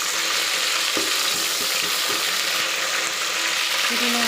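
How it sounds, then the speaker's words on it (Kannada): Onions frying in a generous amount of oil in a pan for chicken biryani, a steady broadband sizzle with occasional soft stirring clicks, close and continuous, with no talk. "ಹಾಕ್ಕೊಂಡು ಈರುಳ್ಳಿನ ಉರಿತಾ ಇದ್ದೀನಿ"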